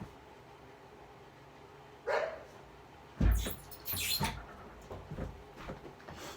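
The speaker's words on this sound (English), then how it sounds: "She does that quiet little chirp bark when she's not really sure if there's something out there" A few soft, short dog barks, quiet chirpy yips spaced out over several seconds against a low background hum.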